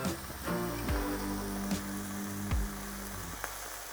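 Thick-cut bacon halves and sausage sizzle steadily in a pan, a continuous close crackle with a few sharp spits and pops scattered throughout, no talking.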